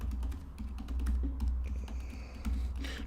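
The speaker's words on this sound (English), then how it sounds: "My typing skills are not excellent." Typing on a computer keyboard, a quick run of close key taps over a steady low hum, with no voices.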